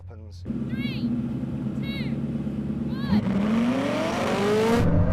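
A Koenigsegg Jesko and a Bugatti Chiron Super Sport accelerate in a rolling drag race, a sustained loud engine roar climbing steadily in pitch from close by, with brief chirping sounds over it and a surge near the end.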